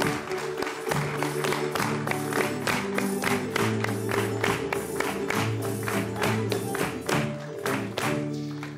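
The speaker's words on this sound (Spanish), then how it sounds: "vamos a recibir con un aplauso a nuestro mozo y a nuestra moza" Studio audience clapping on a Canary Islands folk music TV show, heard as steady, rhythmic applause in time with lively music that carries strong sustained tones throughout.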